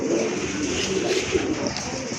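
Fancy pigeons, including sky-blue ones, coo softly in a crowded loft or shop, a continuous murmuring drone of many birds at moderate distance.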